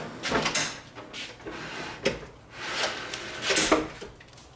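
A dual sliding rear cargo sleeper platform is pulled out and pushed back, giving several soft wooden sliding rumbles and knocks in a quiet space.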